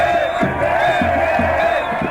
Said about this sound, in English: It's a roar of sound because everyone's so excited and they're singing songs of the revolution and they're shouting slogans.